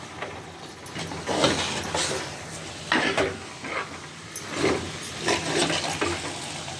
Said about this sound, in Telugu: ఆ వేడి నీళ్ళు పోసుకోవాలి